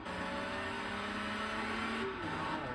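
A car engine in GTA Vice City drones with a steady tonal hum that rises slightly in pitch as it accelerates, loud and continuous, with no voice over it.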